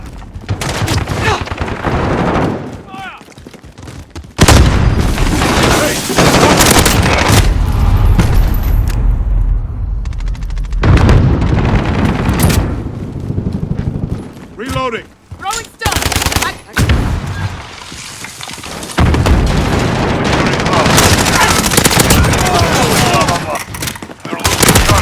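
Shotgun blasts ring out in a video game firefight, loud repeated booms and bursts among other gunfire, with radio-style game voices speaking between shots.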